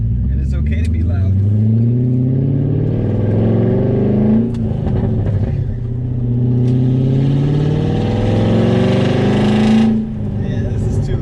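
Car running with no muffler fitted, exhaust roaring loud and close as the engine revs and rises in waves, with a brief dip in the middle and again near the end; someone talks over it.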